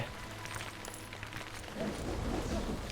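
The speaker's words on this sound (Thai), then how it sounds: "ฝนตกอ๋อ" Rain in the video game LEGO Harry Potter: Years 1-4 on PC, a steady hiss of falling rain that grows slightly louder and denser partway through, with faint game sounds underneath.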